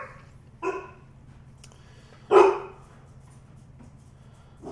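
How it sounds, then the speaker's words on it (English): A dog gives two separate barks, the second louder, over a low steady background hum with long pauses between. "Sorry about the loud barking there."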